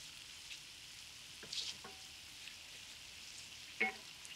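Tomato paste caramelizing with onion in a pan, a quiet steady sizzle with a few brief stirring scrapes and clicks, one sharper scrape near the end.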